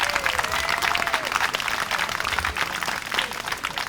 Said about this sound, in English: So a round of applause to the whole Somerset Dolphins swim team.